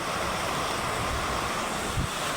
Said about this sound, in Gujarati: કેટલો વરસાદ છે. આવો ને આવો જ ચાલુ છે.